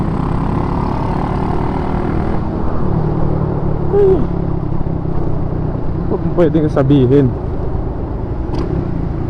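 A Kawasaki Fury 125 motorcycle with a 138cc touring setup rides along in Bocaue, Bulacan, its engine humming steadily beneath a rider's continuous talk, with a few brief higher tones near the end.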